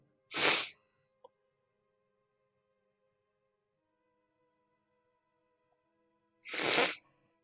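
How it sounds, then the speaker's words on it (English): Two loud, close person's sneezes, spaced several seconds apart in an otherwise quiet room, with a faint click between them. "oh, sneeze time."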